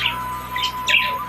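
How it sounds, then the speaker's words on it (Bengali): Caged Java sparrows give a few short, bright chirps in quick succession, close by and fairly soft, with a faint steady hum behind them. "পাখিগুলো দেখতেই পাচ্ছ, দেখো এরা কি করছে, কত সুন্দর খাচ্ছে দেখো"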